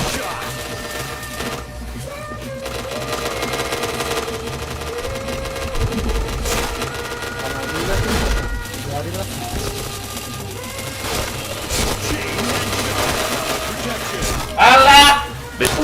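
Rapid bursts of gunfire from a shooting game, sharp repeated shots and clattering fire over a steady music bed, with a louder burst near the end.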